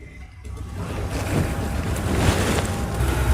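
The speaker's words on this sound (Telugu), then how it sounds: "ఇలా వాటర్లో వేసేసుకుని ఒక 2-3 సార్లు శుభ్రంగా క్లీన్ చేసేసుకుందాము" Cut eggplant pieces washed in a bowl of water make a steady, close, broadband sloshing and splashing that grows slightly louder and continues without pause, with no talking.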